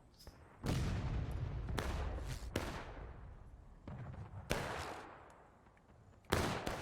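Artillery and gunfire in the war video game Generals At War: several sharp, booming blasts at irregular intervals, each followed by a rolling decay, heard fairly faint.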